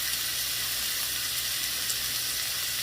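Parmesan-coated chicken sears in a hot pan with a steady, even sizzle and hiss that holds at a constant level throughout, close by with no voices.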